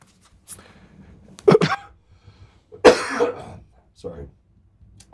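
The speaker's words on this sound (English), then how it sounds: "Sorry, I've had this cough for forever." Two harsh coughs a second or so apart, followed by a third shorter one, up close, with no talking around them.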